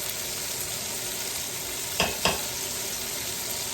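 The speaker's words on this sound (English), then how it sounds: "So I'm browning up the last few of them." Steady, loud sizzle of oxtails browning in a hot frying pan, with two quick scraping clatters midway.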